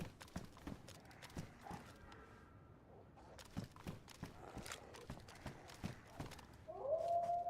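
Wolf pack howling in a zombie survival game, a rising howl emerging near the end over a steady run of clip-clopping footstep-like thuds, fairly faint and distant-sounding.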